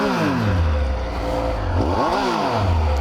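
A 2026 Triumph Speed Triple 1200 RS motorcycle engine idles loudly and close by, with a steady low throb broken by a sharp rev that rises and falls before settling back to idle.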